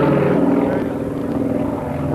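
Aerobatic propeller airplane droning loudly at a 1991 air fair in Kissimmee, Florida, a steady engine roar that swells and eases slightly over a couple of seconds with no voices.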